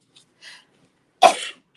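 A single person's sneeze bursts out sharply near the end, preceded by a couple of faint sharp inhalations, close and loud in an otherwise quiet room.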